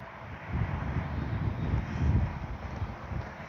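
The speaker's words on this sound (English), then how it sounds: "the wind has really picked up" Strong wind buffets an outdoor microphone at a model-jet flying field for a Freewing 90mm Zeus, a steady low roaring rush with gusts swelling around the middle, loud and continuous with no talk.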